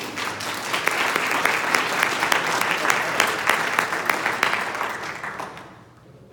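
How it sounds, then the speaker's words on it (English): Sustained clapping from the audience at a county party central committee meeting fills the room for several seconds before fading out. "So a round of applause for those members of the executive committee"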